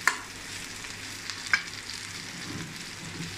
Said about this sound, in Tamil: திருப்பி போட்டு திரும்பவும் நல்லா வரவி விட்டுருங்க இப்படி